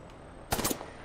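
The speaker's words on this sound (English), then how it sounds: "someone's shooting me" Automatic gunfire rings out in Apex Legends, a short, loud burst of rapid shots that starts suddenly midway through a quiet stretch and dies off within a fraction of a second.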